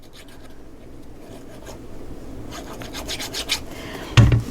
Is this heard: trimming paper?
yes